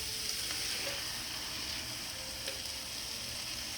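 Beans hit a hot pot for vegan minestrone soup, giving a steady, close hiss of frying that holds evenly throughout, with a faint tap or two and no talk.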